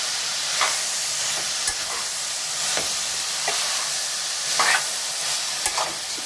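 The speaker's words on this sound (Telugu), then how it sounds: "మళ్ళీ ఒకసారి కలుపుకోవాలి, లేకుంటే అంటుకుంటుంది అన్నమాట." A broad bean and tomato curry with green chillies is stirred in a pan, a steady hiss and sizzle under a few scraping strokes of the spoon, close and fairly loud.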